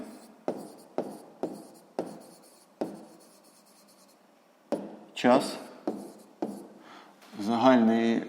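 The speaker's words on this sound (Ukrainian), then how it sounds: "Отже, 98 годин записуємо." A pen writes numbers in a sixth-grade maths exercise, making crisp close taps and short strokes in an irregular rhythm on paper, with brief bits of speech near the end.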